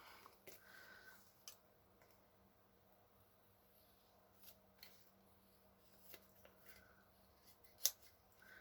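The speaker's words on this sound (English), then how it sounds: "Scissors." Several short, crisp snips of scissors cutting paper, spaced irregularly and fairly faint against a quiet background.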